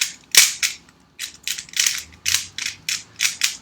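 A Rubik's cube being scrambled by hand: quick bursts of plastic clicking and ratcheting turns in an uneven rhythm, close and moderately loud, with no voices.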